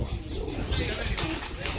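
Pigeons cooing softly near a farm well, amid some background noise and faint voices, with a brief flutter of wings.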